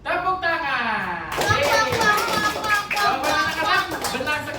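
Children in a classroom clap their hands together in a lively burst, the claps mixed with high excited kid voices calling out throughout.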